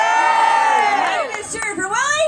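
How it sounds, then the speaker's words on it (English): Audience at an outdoor lumberjack show cheering and whooping, a loud sustained crowd roar with children's shouts rising and falling over about two seconds. "So who's cheering for Johnny?"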